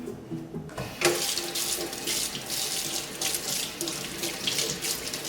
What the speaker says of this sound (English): we're going to need to start off this procedure with washing our hands